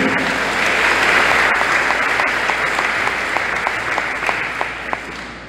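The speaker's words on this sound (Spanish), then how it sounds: "Un aplauso a todos los hermanos." Audience at an Advent proclamation gathering of a Neocatecumenal community in Guayaquil, Ecuador, applauding in a steady, sustained wash of many hands clapping that slowly fades toward the end, fairly close and without speech.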